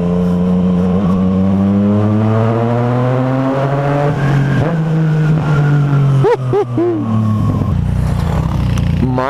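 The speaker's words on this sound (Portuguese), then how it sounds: "E mais um passando sinal vermelho." A car runs a red light while its engine revs up in a loud, rising whine. The tone dips sharply and then climbs again as the car speeds away up close.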